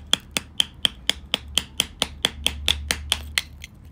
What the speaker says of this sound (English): Screwdriver and an actual hammer.